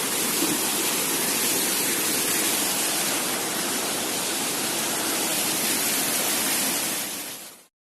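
A steady, dense roar of falling water, loud and close, rushing without pause before cutting off abruptly near the end.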